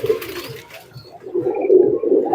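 Teddy breed pigeon cooing in soft, repeated low throaty pulses that swell and fade, close and clear with no talking.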